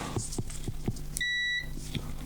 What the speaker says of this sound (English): I'm gonna test the connections with my multimeter that beeps when I have a connection.